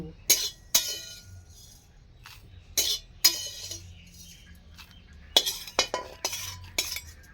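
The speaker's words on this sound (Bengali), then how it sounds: "হামাল দিস্তার মধ্যে দিয়ে দিচ্ছি এটা হামাল দিস্তায় পিষে" Fried spices tipped into a metal mortar and pestle for grinding make sharp, bright clinks and clatters in separate bursts, with quieter scraping and rattling between them, close and with no talk.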